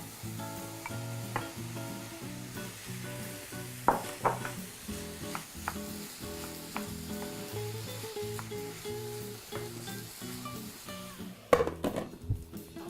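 Bell peppers dropped into a hot oiled pan with onions, giving a steady close sizzle of frying with occasional stirring clatter and a few louder knocks near the end.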